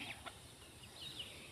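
Faint, soft clucking from chickens in the distance, brief and low over a steady outdoor background hiss.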